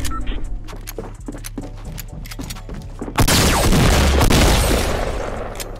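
A heavy shotgun fires in Fortnite Battle Royale. Sharp shots and clicks come first, then a loud, booming blast bursts out and rumbles on for a couple of seconds before slowly fading.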